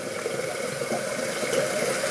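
Water runs steadily from a bathroom tap during a shaving session, a continuous broadband hiss that stays even and fairly close for the whole moment, with no voices over it.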